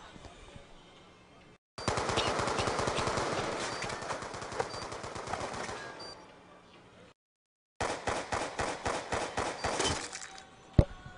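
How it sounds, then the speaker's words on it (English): Rapid automatic gunfire in a Call of Duty Championship match, long sustained bursts and a string of sharp shots with brief gaps, loud and dense, with faint commentary underneath. "Lots of shots going down on him as well."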